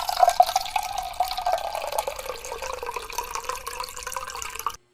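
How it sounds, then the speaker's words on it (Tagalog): Kutsinta batter poured through a sieve, a steady close trickle and dribble of liquid that stays even for about five seconds before stopping abruptly. "sasalain ulit natin ito para makuha natin yung mga bubbles at buo-buo"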